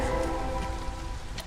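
Steady rain from the weather in the colony-building video game Against the Storm, brought on by a rain spirit totem built by fishmen. It forms a continuous wash of falling drops over a low rumble for a brief stretch, with no talking.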